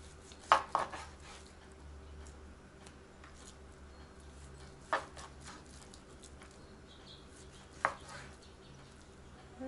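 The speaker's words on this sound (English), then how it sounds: "I'm just going to cut it and then cut it again." A knife cuts roast beef on a board, making a few sharp, close chops spaced several seconds apart over a low, steady kitchen background.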